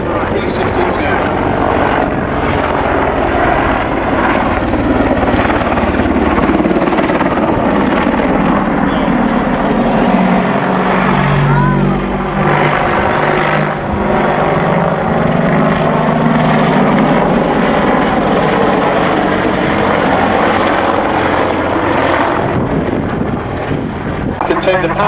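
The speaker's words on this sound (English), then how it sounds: "The crew will now use a pedal turn in order to rapidly reposition the aircraft to set up for a 360 manoeuvre." An Apache attack helicopter making a pedal turn at a D-Day airshow at Duxford: a loud, continuous rotor and turbine roar that swells and shifts in pitch, with an announcer talking over it and wind buffeting the microphone.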